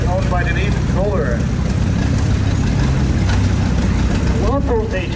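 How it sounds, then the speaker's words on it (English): A 1945 John Deere Model H tractor engine runs steadily at an outdoor threshing show, its continuous low rumble filling the whole stretch with no break, loud and close. "the 1945 John Deere Model H"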